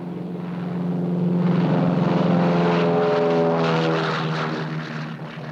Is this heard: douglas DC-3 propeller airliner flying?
yes